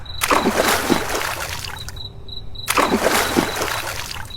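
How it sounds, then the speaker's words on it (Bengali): Cold water splashes and sloshes in two bursts as someone bathes outdoors after a hot day's work, with a short quiet gap between the pours. "সারাদিন রোদে পুড়ে কাজ করে এরকম ঠান্ডা জলে স্নান করতে কার না ভালো লাগে।"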